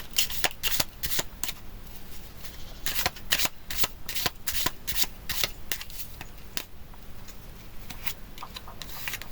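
A deck of Symbolon oracle cards is shuffled by hand in repeated crisp riffling bursts, close and clear, with soft rubbing between the shuffles.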